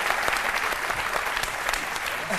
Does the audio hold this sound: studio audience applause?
yes